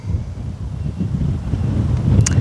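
Wind buffeting a microphone in steady low rumbling gusts, growing slightly stronger toward the end, with no speech.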